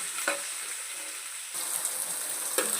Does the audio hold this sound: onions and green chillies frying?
yes